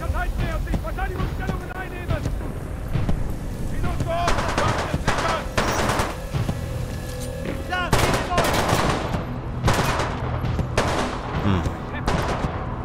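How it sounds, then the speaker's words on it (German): Rapid gunfire from Titanfall 2, with machine-gun bursts and scattered shots, loud and dense throughout, mixed with other battle noise. "Hörte sich an, als ob die auf mich schießen."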